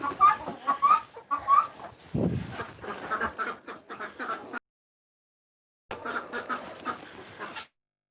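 Farm ducks and chickens making busy quacking and clucking calls, close by and repeated in bursts, with a short gap of silence before the birds start again.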